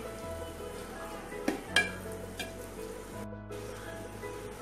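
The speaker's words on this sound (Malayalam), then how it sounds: "ഇനി ഇത് നല്ലതുപോലെ പരത്തിയിടുക മസാല." Masala for a Thalassery king fish dum biryani sizzles steadily in a pan as it is spread out, with a few brief scraping clicks of a spoon, low and continuous with no talking.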